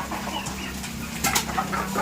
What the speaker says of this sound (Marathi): अंड्यांसाठी कोंबड्या बसलेले आहेत